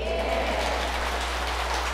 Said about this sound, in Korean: 이 박수 소리 들어보니까 법문할 생각이 안